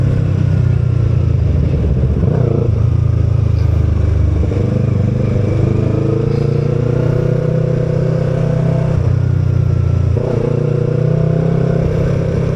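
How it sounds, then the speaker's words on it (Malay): Yamaha R25 motorcycle engine droning steadily while riding through morning traffic in Puchong, loud and close with a constant low hum, brief throttle changes and surrounding road noise, no talking. "Enjin bunyi okey."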